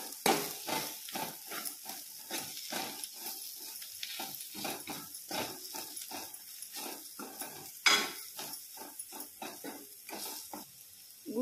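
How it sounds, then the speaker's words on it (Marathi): Karela (bitter gourd) bhaji is stirred with salt and crushed peanut powder in a pan, producing steady, rhythmic scraping and clattering spoon strokes at close range, with no one speaking. "आता आपण हे छान मिक्स करून घेऊ।"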